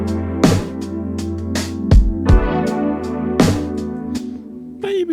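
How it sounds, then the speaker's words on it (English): Big, crunchy sampled snare from an Oasis drum kit, several sharp hits spaced through a bright repeating synth pattern, loud and up front with no talking. "Got this big crunchy snare from my Oasis kit."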